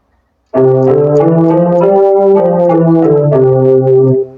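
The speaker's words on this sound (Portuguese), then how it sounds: "Esse é o som que se tem do órgão 1." A steady electronic organ tone on its Organ 1 preset sustains chords for about four seconds, bright and harmonically rich, shifting notes midway, then cutting off cleanly.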